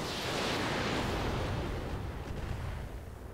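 A heavy roaring blast from mech weapons firing in the video game RogueTech, one broad loud burst at the start that rumbles and slowly fades over a few seconds, with no voices.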